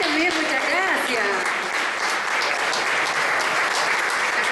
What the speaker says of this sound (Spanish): Un gran aplauso a todos y muchas gracias por venir.